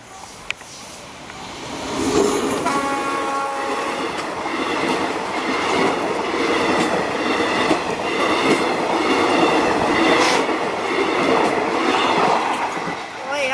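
A diesel train, locomotives D.4050 and D.4151, rumbles steadily past an automatic level crossing barrier at close range, with clattering wheels and a brief high tonal squeal or horn-like chime early on, continuous and loud throughout.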